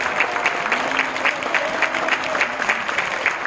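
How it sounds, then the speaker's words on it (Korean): An audience at a founding ceremony gives the chairman a sustained, even round of applause, dense clapping at moderate volume from start to finish. "멋진 말씀해주신 우리 장만원 이사장님께 다시 한번 뜨거운 박수를 보내주시기 바랍니다"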